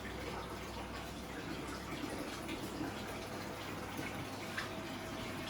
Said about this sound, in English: We have a sump over here which the water from the coral pond drains into.